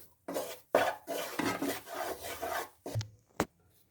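Spatula stirring roasted gram flour in ghee in a pan, loud close rasping strokes in an uneven rhythm, followed by a couple of sharp knocks near the end, with no voices.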